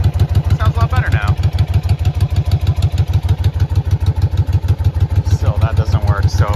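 A Yamaha Virago motorcycle engine runs on choke with a loud, steady, rhythmic thumping idle heard up close, while someone talks briefly at the start and again near the end.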